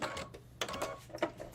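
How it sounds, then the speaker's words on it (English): A sewing machine stitches across a bag handle in a short burst of quick mechanical clicks and whirs, fairly quiet and close. "Try to sew it across here"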